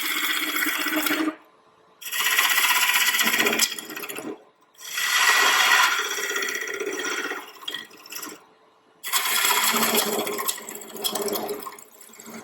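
Cedar wood turned on a lathe with a carbide tool, heard as four loud bursts of scraping and shaving, each several seconds long, separated by short pauses.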